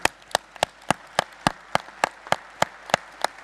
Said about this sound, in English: We're just going to give you a clap.